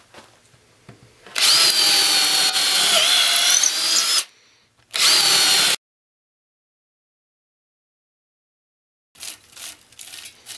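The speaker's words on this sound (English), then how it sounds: "see how many more holes it can drill" A Bosch cordless drill whines loudly through wood in two bursts, a long run then a short one, followed by silence and some faint handling noise.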